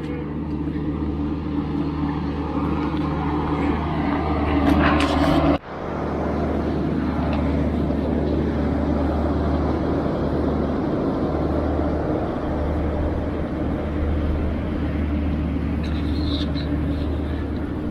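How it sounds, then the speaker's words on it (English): A tractor rumbles along in an RV park with a steady, loud low engine drone. It runs continuously, with a brief thump partway through, and a voice talks over it. "now we got a tractor coming"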